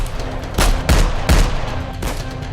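Gunfire and explosions sound effect: several loud, sharp blasts in irregular succession, each with a booming low thump, over a continuous rough background din.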